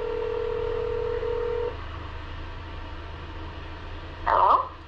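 Phone dialing tones sound as a resident is called: a steady electronic tone holds for over a second, then after a quiet pause a short burst of bright beeps follows near the end, with no talking.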